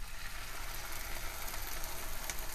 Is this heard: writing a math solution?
no